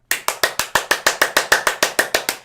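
Fourteen sharp hand claps in a steady, even rhythm, close and crisp, each with a quick decay, alone with no voices.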